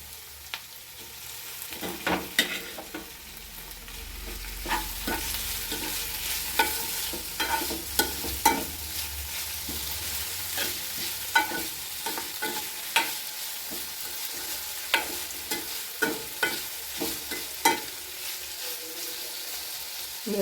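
Jackfruit seeds and onions fry in a pan for a Kerala-style stir-fry, giving a continuous close sizzle. Repeated scraping and clacking of stirring punctuate it throughout.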